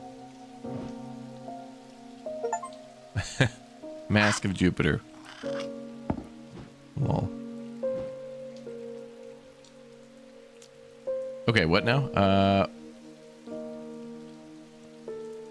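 Steady rain patters through the scene in the shop game Strange Antiquities, soft and continuous beneath spoken commentary and a few tonal game chimes.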